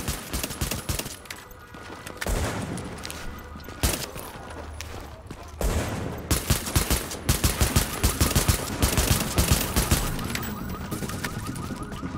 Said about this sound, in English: This assault rifle is so nice.